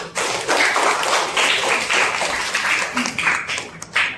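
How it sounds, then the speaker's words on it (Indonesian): A classroom of students claps for a presenting group during a school lesson, close and fairly loud, uneven bursts of hand claps with a few sharper taps and thumps, ending with a last clap. "Tepuk tangan untuk kelompok 3."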